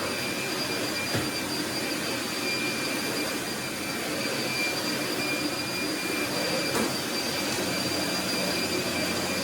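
A vacuum cleaner drones steadily and loudly, a constant whooshing hum with no voices.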